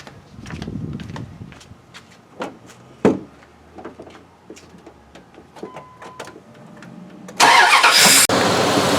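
A car engine with a distributor-based ignition system cranks with a series of sharp clicks and thumps after a tune-up, then catches and roars loudly to life near the end.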